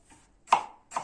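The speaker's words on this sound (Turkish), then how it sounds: "Önce lahanalarımızı küçük küçük doğrayacağız" A knife chops black cabbage into small pieces on a board, making two sharp close cuts about half a second apart after a faint first tap, crisp and quiet otherwise.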